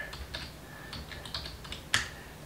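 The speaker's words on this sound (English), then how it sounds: "Let me go ahead and just type in" Quick bursts of keystrokes on a computer keyboard as a web address is typed, light irregular clicks close up with short pauses between runs and one sharper tap near the end.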